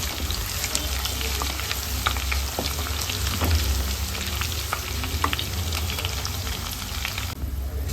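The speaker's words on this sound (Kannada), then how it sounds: "ಬೆಳ್ಳುಳ್ಳಿ ಚೆನ್ನಾಗಿ ಫ್ರೈ ಆಗಬೇಕು." Crushed garlic and mustard seeds fry in oil for a bitter lime chutney, a continuous close sizzle with crackling pops and occasional stirring scrapes.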